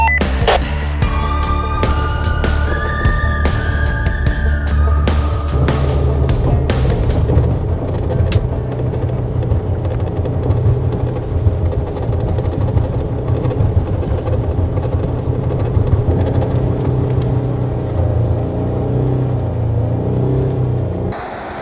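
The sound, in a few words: Jeep Gladiator pulling trailer up steep hill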